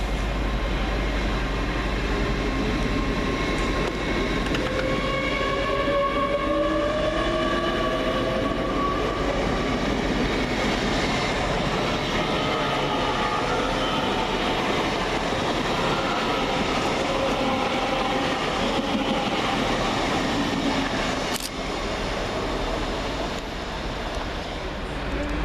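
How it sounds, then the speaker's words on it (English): A Great Western Railway class 802 train, unit 802114, pulls out of Reading station on a Paignton to London Paddington service, a loud sustained rumble of engine and rolling wheels with rising tonal whine, close and continuous. "802114 departs with the delayed 1342 Great Western Railway service from Paignton to London Paddington"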